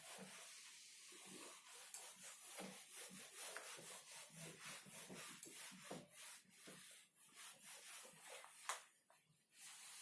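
A board being erased during a class-8 maths lesson: rapid, rhythmic rubbing strokes, close and scratchy, continuing steadily for about ten seconds with no talking.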